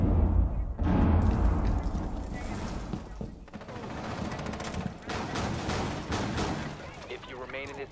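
Gunfire crackles through a Rainbow Six Siege match in bursts of shots and impacts at mixed distances, heard under players chatting to each other.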